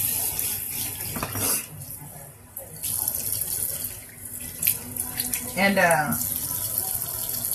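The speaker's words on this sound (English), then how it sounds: "So now I'm going to just rinse this off really quick." Water runs from a bathroom tap into a sink while lip scrub is rinsed off, a steady close splashing flow, with a voice talking over part of it.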